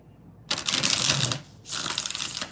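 A deck of oracle cards is shuffled by hand in two quick, close bursts of crisp riffling and flapping, separated by a brief gap, with no talk.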